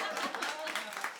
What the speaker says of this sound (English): Big round of applause for Leslie and Agnes.